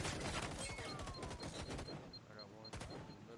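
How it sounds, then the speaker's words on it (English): Bursts of gunfire crackle in a competitive first-person shooter esports match, rapid overlapping shots at moderate distance with faint beeping tones mixed in. "Gunfire going on."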